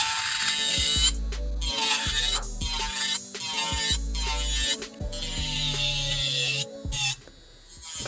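A black and gold electric nail file runs smoothly during nail prep, its steady high whir stopping and restarting several times at close range with no speech.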